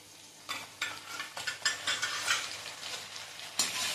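Chopped carrots, cauliflower and frozen peas sauté in a pan for veg pulao, with a crackling sizzle and repeated stirring scrapes in quick bursts, fairly close and moderately loud.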